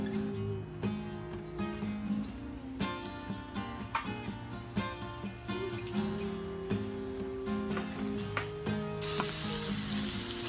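Onions fry beside fish in a pan, giving a steady, close sizzle broken by faint clicks and scrapes as they are moved about.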